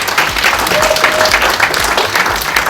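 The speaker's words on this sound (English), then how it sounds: "How amazing is that? Round of applause." A short burst of loud, dense applause from the audience at a charity launch event, filling the whole moment without speech.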